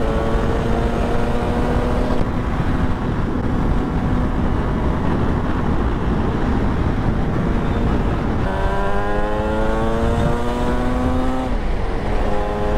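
A Yamaha RD350 YPVS 1980s two-stroke motorcycle on the move, its engine droning loud and close with rising revs through the gears and a sharp shift partway, under constant wind rush.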